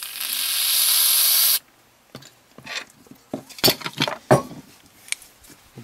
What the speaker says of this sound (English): Get a little bit of brake cleaner on these.